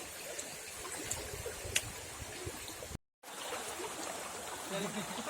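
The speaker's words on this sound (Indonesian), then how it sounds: "Ini sungainya sangat deras hari ini." A fast-flowing river on the Purwodadi–Selosari border in Ringinrejo, Kediri, rushes in a steady, close, broadband wash that drops out for a moment before continuing.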